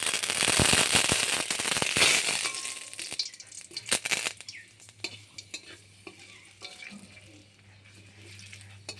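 Cumin seeds, two dried red chillies and a home-grown bay leaf crackle and spit in hot oil, loud sputtering at first that eases into scattered sharp pops and a softer sizzle.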